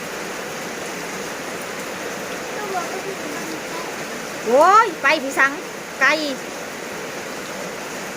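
Steady heavy rain falling in a rural village, a dense even hiss throughout, with a person calling out loudly over it partway through.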